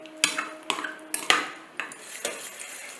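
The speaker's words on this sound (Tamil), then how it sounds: "இந்த தயிர் பச்சடிக்கு தேவையான அளவு உப்பு சேர்த்துட்டு நல்லா கலந்து விட்டுடலாம்" A spoon clinks and scrapes against a bowl while salt is stirred into curd pachadi, a few quick irregular metallic taps, close and fairly faint.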